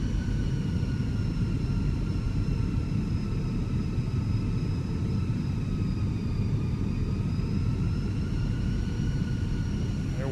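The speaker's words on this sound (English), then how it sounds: "Listen to those engines working." Airbus A320 jet engines in the Fenix flight simulator game drone steadily, a loud, constant turbine whine over deep rumble, approaching to land in tropical storm weather.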